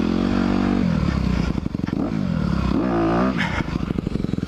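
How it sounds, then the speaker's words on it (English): A 2021 Honda CRF 250R dirt bike engine revs hard and loud nearby, its pitch rising and falling as the rear tire spins during a wheelie attempt, with crackling and clatter in the roar. "So trying to wheelie, you just tire just spins."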